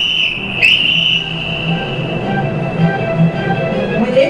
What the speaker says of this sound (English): Within a matter of seconds of Santa blowing the whistle, two guards run towards him